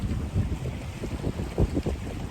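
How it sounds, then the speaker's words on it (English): Strong wind gusts buffet the microphone out on open water near a floating log boom in the morning, a steady low roar with rumbling surges and no talk. "it just so happens that the wind picked up first thing in the morning"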